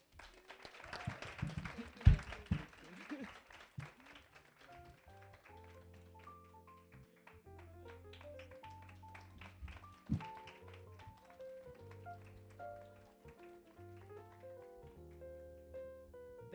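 An audience applauds the CEO of the Miss Namibia beauty pageant at a 2024 event. A dense burst of clapping fills the first few seconds, then thins out as sustained music tones take over.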